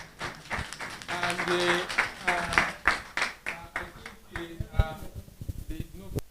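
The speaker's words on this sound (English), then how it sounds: "We thank him in the hand clap" Hand clapping from a lecture audience on gender-based violence at a higher institution, uneven claps mixed with a speaking voice and room noise, fading out toward the end.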